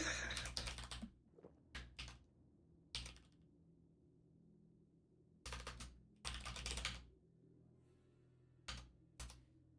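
Bursts of computer keyboard typing come in quick clattering clusters, separated by short quiet gaps, fairly close and moderately loud, with no talk over them.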